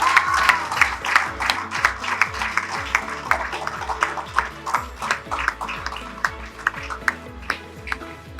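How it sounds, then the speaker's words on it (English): Graduation audience clapping at a primary school ceremony, a scattered crowd of hands producing sharp, irregular claps that continue steadily at moderate volume throughout. "She deserves another huge applause."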